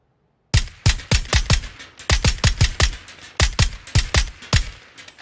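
Loud, close gunshots in PUBG ring out in rapid single-shot volleys after a brief silence, three quick clusters of sharp cracks with short pauses between them, no talking.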